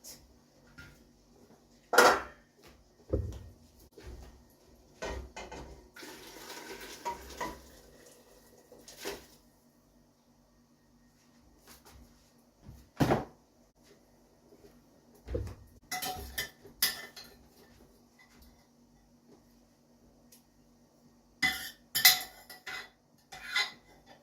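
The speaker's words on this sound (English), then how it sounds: "get my slow cooker and empty the contents into my soup pot" Slow cooker contents being emptied into a soup pot for Jamaican chicken neck pumpkin soup, heard as scattered metallic clinks and scrapes of spoon against pots, with sloshing bursts between quiet stretches.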